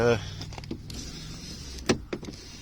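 Electric windows on a 13-year-old Kia Venga whir briefly, with a couple of short motor bursts and clicks close by, separated by quiet pauses.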